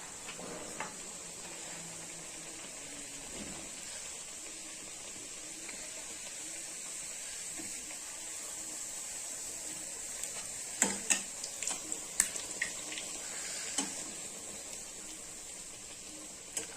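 Spinach puris deep-frying in hot oil give a continuous soft sizzle and hiss, with a few sharper clicks and taps of a utensil partway through; no one speaks.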